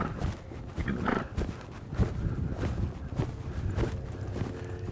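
A horse loping around an arena, its hoofbeats thudding in a steady rolling rhythm, close and fairly loud against a dull background rumble.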